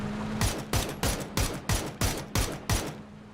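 Gunfire in the battle royale video game PUBG: eight sharp, evenly spaced shots in a steady rhythm, loud and close, over a constant low background hum.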